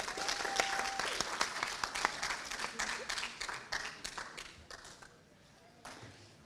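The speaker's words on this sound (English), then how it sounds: "Let's have one more round of applause for Team Anand." Graduation ceremony audience clapping in a round of applause, a dense patter of many hands that thins and fades toward the end, with a few louder individual claps standing out near the close.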